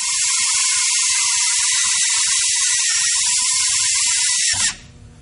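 A steady high-pitched drill whine as a Drill N' Tap bit bores through metal with cutting fluid, close and loud, with faint rhythmic clicking beneath, then cuts off abruptly near the end as it breaks through.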